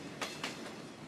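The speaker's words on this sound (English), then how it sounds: "the rare treat of a vintage old train traveling through Arizona" Vintage steam train on its historic centennial excursion through Arizona, passing close by with a steady broad rumble and two brief sharp clanks over about a second, no voices.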